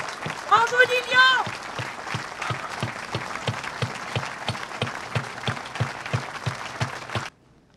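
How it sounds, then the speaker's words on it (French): A crowd in Grenoble applauds steadily and loudly at a tribute, clapping sustained throughout, with brief voices rising near the start before the applause cuts off abruptly. "Et on va applaudir pour lui, pour son geste héroïque."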